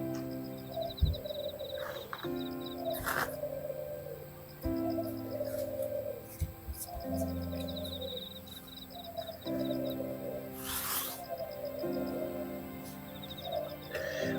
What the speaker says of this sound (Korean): 이거 5번 분들 하고 있는데 비둘기들이 떼창을 하고 있네요